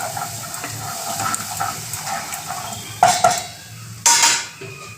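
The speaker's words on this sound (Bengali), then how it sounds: "এটা মশলাটা ভাজা যাক ভালো করে" Masala frying in a little oil in a pan while it is stirred, giving a soft sizzle with two sharp metallic scrapes and clatters of a utensil against the pan.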